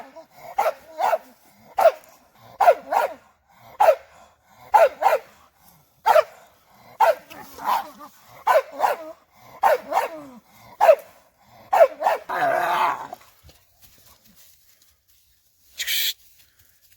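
American Bully hunting dogs barking at a raccoon: a steady run of loud, close, deep barks at roughly one-second intervals, ending in a rougher burst and a brief high yelp after a pause.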